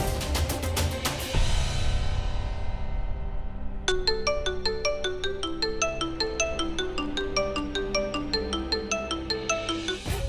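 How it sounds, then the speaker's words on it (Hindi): A phone rings with an incoming call, its melodic ringtone chiming in steady repeated patterns at moderate loudness with no talk over it. "युवराज का फोन?"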